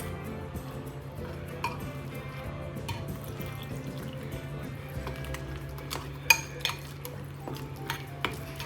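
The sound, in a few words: stirring chili paste in a bowl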